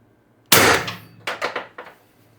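A Mercury Rise TR50 Torpedo fires a 4-gram Vindicator round on 800 PSI HPA: one sharp, loud pneumatic crack, then a few quick rattling knocks and clatters as the projectile strikes and bounces nearby.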